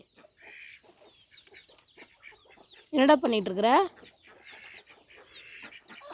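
Chickens cluck and squawk loudly in a short burst close by, with a person talking over scattered bird calls before and after.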